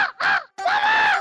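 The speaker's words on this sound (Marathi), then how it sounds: "अरे मस्त आहे कावळा" Two loud, harsh crow caws close by, a short one and then a longer drawn-out call, with a brief gap between them.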